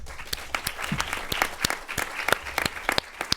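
At a film press conference, the audience gives sustained applause: crisp, close individual claps ring out over a thinner background of hands, irregular and lively, with no talking.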